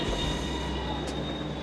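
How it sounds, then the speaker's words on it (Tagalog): Train pulling into a station in Milan, a steady low rumble of rolling wheels with a faint squeal, heard at moderate distance. "Buti lang nandito na yung train."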